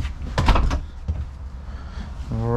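The bathroom door of a Voltage 3915 toy hauler RV opens or closes with a couple of close, solid knocks and a rattling clatter, followed by a short rising whirr at the end.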